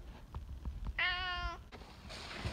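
A single clear, drawn-out cat meow rises and falls for about half a second in a quiet indoor room, followed by faint shuffling and a soft hiss of background noise.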